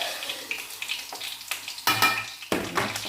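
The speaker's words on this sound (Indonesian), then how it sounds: "sambil kita aduk saus kita" Spicy chili sauce with garlic is stirred in a hot pan, producing a steady sizzle broken by several sharp scraping strokes of the spoon against the metal, close and fairly loud.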